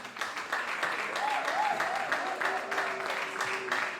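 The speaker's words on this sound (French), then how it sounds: "sous nos applaudissements nourris, bien évidemment, s'il vous plaît" Audience at an awards ceremony applauding steadily and fairly loudly for several seconds, mixed with crowd murmur and a short whistle-like tone.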